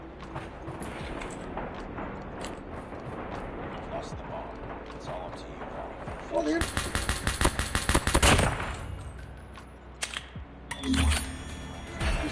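The MW11 rifle fires in a video game, rapid bursts of loud shots in the second half, sitting amid other game noise with people talking over it.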